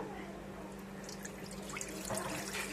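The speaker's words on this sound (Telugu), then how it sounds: "వాటర్ పోసుకోవాలి" Water pours steadily into a pan for a few seconds, a continuous splashing rush over a low background hum.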